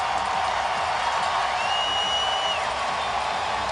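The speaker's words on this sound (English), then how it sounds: "This crowd loving it." A dense hockey arena crowd at a Western Hockey League game between the Edmonton Oil Kings and Portland Winterhawks roars and applauds in a steady, even wash of noise, with a faint high whistle-like tone partway through.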